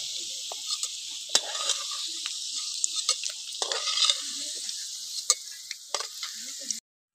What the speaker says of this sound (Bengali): আলুটা ভাজা হয়ে গেছে, এবার আলুটা তুলে নেব।